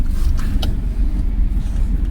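A car that had been stuck pulls away at night, its engine a steady low rumble close by, with a few faint knocks and clicks over the top and no voices.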